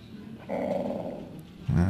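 A dog in the Bibi Blocksberg game growls low, then gives a short sharp bark at the end, close and fairly loud over quiet game background with no talking.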